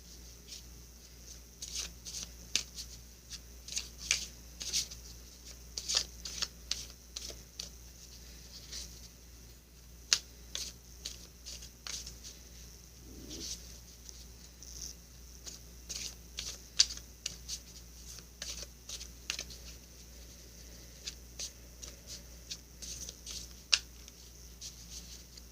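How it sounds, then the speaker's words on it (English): Oracle cards are shuffled repeatedly in quick, soft riffles and flicks, close and quiet, with no talking. "I'm going to shuffle now"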